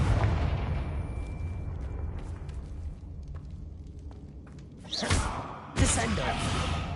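Confringo blasting spells go off in a Harry Potter video game, two sharp booming blasts in quick succession near the end that follow a stretch of low, rumbling game ambience.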